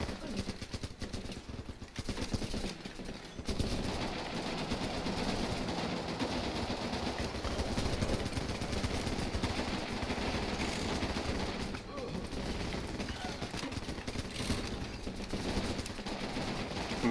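Ongoing battle gunfire in the Running With Rifles tactical shooter game, steady machine-gun rattle and scattered shots over a busy background, with someone talking throughout.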